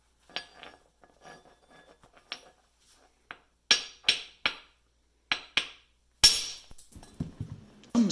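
A glassy mineral rock is struck and broken in a series of sharp, separate cracking impacts with clinking fragments, growing louder in the second half and ending in a rattle of falling pieces; no one speaks.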